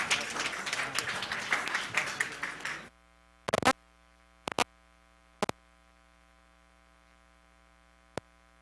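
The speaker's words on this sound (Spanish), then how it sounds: "Desde luego le brindamos un fuerte aplauso a nuestra conferencista." Audience applause for a biologist lecturer at a forum on low-carbon sustainable rural development in Mexico, lively for about three seconds and then cut off to a near-silent hum broken by a few isolated clicks.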